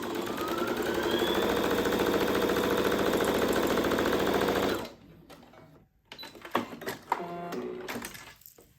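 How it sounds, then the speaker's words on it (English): A sewing machine runs fast and steady stitching a seam on fabric for a ~stoma bag cover, a close mechanical whir that stops abruptly, followed by quieter handling and rustling. "I'm just sewing a line all the way down there"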